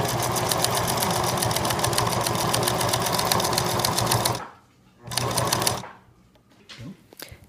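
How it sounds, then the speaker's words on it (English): A sewing machine runs a straight seam across a layered fabric hospital mask, a fast even close whir for about four seconds, then two short bursts after brief pauses. "Now we're going to run a straight seam across each side of the mask"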